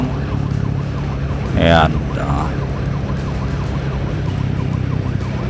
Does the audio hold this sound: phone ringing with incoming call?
no